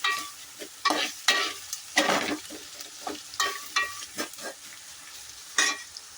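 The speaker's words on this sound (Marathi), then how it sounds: "कांदा थोडासा लाल ब्राऊन होईपर्यंत परतत राहावा बारीक बारीक" Chopped onion sautéing in a pan until reddish brown for chicken dum biryani, with repeated scraping stir strokes over a steady close sizzle and no talking.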